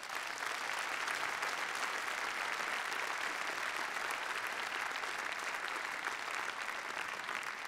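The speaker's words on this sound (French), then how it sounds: "Je vous demande d'applaudir Monsieur Pierre Rambose" A large audience claps continuously for Pierre Ramboz at a tribute held in a brasserie, even and dense throughout, moderately faint and with no speech.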